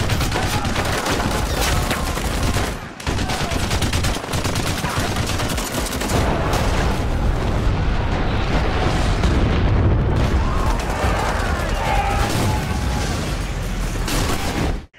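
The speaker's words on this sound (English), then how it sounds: "the militants fire mortars at the airfield" Mortar shells pound an airfield in a war film battle scene, a loud, dense, continuous barrage of booming blasts and gunfire rumble with barely any pause.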